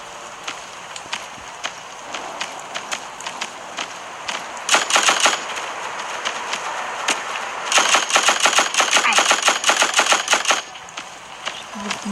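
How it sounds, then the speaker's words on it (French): Machine gun fire in a shooter video game, loud rapid bursts of shots in two long volleys with scattered single shots between them. "Une meilleure mitrailleuse, hein, c'est ça."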